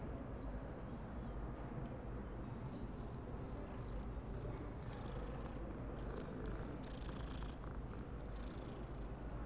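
A cat purrs steadily in Hogwarts Legacy, a continuous low rumbling purr heard up close and alone for the whole stretch, with faint game ambience in the background.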